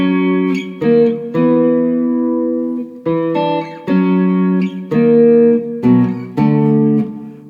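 Clean electric guitar through a Boss Super Chorus pedal playing the opening line of a song, ringing chord stabs and double-stops with shimmering chorus, played alone in a series of short phrases.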